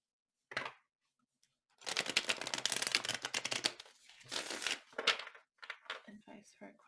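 Tarot cards being shuffled by hand, a short riffle followed by a long dense stretch of rapid papery flutters and slaps, then scattered softer card sounds, close and clear, with a voice speaking at times.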